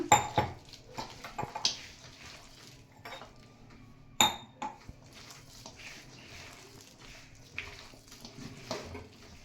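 Maddur vada dough being mixed by hand in a bowl with water, giving soft squelching and scattered clinks against the bowl, with a sharper knock partway through, fairly close and alone.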